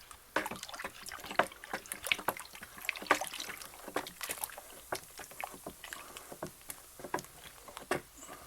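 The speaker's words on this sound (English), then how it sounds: "I'm going to give it a stir" Fermenting mojito hard iced tea is stirred, giving repeated sloshing, splashing strokes of liquid, close and fairly loud, with no talking.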